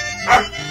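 A single short dog bark sounds close and loud, used as a sound effect in a radio drama.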